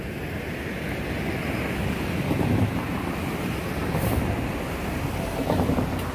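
Meitetsu train approaching Higashi Nagoya Port station on the Chikko Line, a steady broadband rumble with faint wind, rising slightly as it draws nearer.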